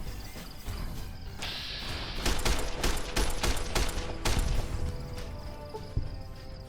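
Military service rifle fire in the video game Fallout New Vegas: a rapid burst of sharp, close shots in quick succession over a steady background hum, then a single isolated shot a little later.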